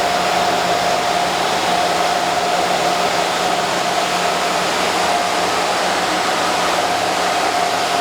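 A SUN Blade-System 6000 server chassis runs at normal operating speed, its fans producing a steady, dense rushing whine that holds constant without change from start to finish.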